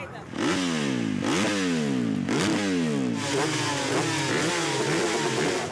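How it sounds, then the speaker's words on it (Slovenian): A motocross motorcycle engine idles and revs near the mic, blipping in repeated rising and falling bursts, loud and continuous, at an outdoor motorcycle blessing event. "Kaj tam, cross motor, ja. Ga malo prižgete, prosim."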